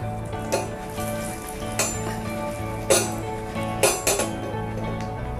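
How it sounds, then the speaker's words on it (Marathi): Turmeric, curry leaves and chillies sizzle in hot oil for a tadka meant for dosa chutney, a steady crackling fry with a few sharp clinks of a spoon against the pan, no talking. "पहिले हळद टाकूया, कढीपत्ता घालूया, आणि या मिरच्या घालूया।"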